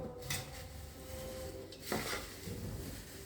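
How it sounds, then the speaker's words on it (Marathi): Thin poha chivda tossed with spices in a pan, a soft continuous scraping and rustle with a few light metallic clinks, quiet and close, with no talk. "आता हे सगळं हलवून घेऊया"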